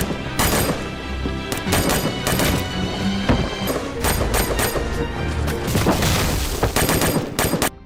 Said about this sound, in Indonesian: granat dan ratusan peluru ditembakkan ke arah prajurit yang diikat per 3 orang.